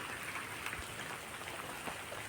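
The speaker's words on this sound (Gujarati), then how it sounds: "માથે હટા વરસાદ વરહે હે" Rain falls softly and steadily on a farm field in the Gir area, a faint, even patter with no voices over it.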